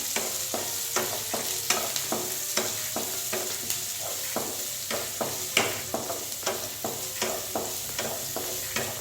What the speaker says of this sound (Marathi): बारीक चिरलेला मोठा कांदा घेतलेला आहे तो खूप बारीक चिरलेला आहे मी आपण फ्राय करून घेऊया